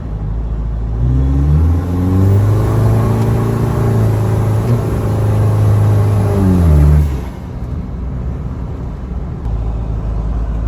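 An Isuzu V-Cross pickup with a freshly rebuilt engine, automatic gearbox and 33-inch 285 tires accelerates hard in morning traffic, its engine rumble climbing in pitch through a long rev before easing off sharply.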